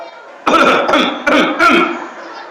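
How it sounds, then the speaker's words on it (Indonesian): Several short, throaty coughs from an audience member at an Isra Miraj religious gathering, quick succession, fairly close and loud against a quiet room. "Udah mulai di belakang ada yang batuk"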